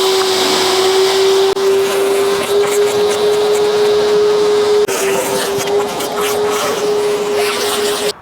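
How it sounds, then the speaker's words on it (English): A powerful Hyundai HYVI10030 wet and dry vacuum cleaner motor whines steadily at close range, a sustained high hum with slight shifts in tone, running alone without pause. "there is no doubt that this is a serious vacuum cleaner"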